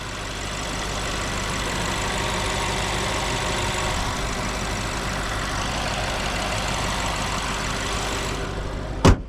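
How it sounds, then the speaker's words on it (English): Twin-turbo V8 of a 2013 BMW 750Li xDrive running steadily, a broad continuous engine drone heard close and fairly loud for the whole stretch, ending in a brief sharp bump. "So here we have the twin turbo V8."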